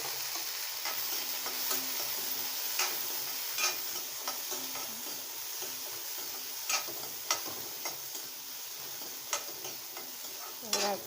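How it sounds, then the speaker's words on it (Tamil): Halved onions sautéing in a little oil for a chicken curry, a steady close sizzle broken by sharp clicks and scrapes of stirring, with no voices. "வெங்காயத்தையும் இந்த மாதிரி வதக்கி எடுத்துக்கலாம்"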